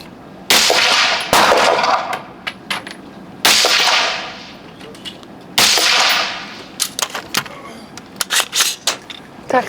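Bullets striking a metal target at 50 metres ring out as sharp clangs, three loud strikes spaced a couple of seconds apart, each with a long decaying ring, followed by a burst of quicker, fainter metallic pings.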